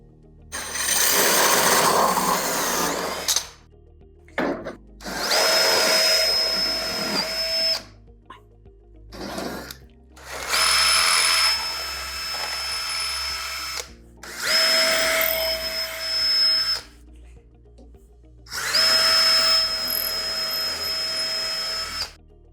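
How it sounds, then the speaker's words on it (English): A power drill fitted with a hole saw cuts through a kitchen counter in six long whining bursts with short pauses between them. Each burst grinds and rasps loudly at close range. "we get the hole saws and the drill bits, and we drill through the kitchen counter"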